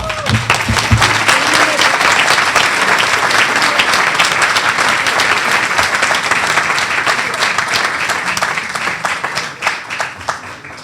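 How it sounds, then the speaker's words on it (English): Sustained audience applause fills a 2019 Tiger Bay of Manatee leadership awards event, dense steady clapping from a large crowd with a brief voice at the start before the ovation. "Please give our congressman another round of applause."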